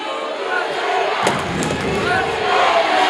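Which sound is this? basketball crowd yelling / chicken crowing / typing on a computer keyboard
basketball crowd yelling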